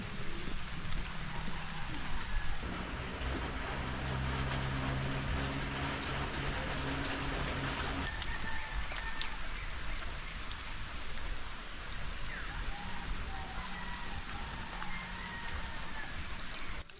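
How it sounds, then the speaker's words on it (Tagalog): Steady rain patters on green leaves outdoors, a soft continuous hiss with scattered drips and faint insect chirping in the background. "Ang sarap pagmasdan ng mga butil ng ulan dito sa berdeng dahon."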